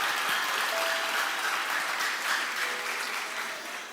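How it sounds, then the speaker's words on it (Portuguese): A church congregation applauds in a dense, continuous wash of clapping that fills the space at a steady level before easing slightly at the end. "Aplauda o nome dele."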